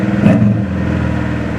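A Subaru car engine hums steadily at a raised idle that will not settle down, a close, even droning tone with a slight bump in the first moment.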